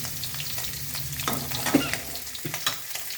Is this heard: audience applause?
no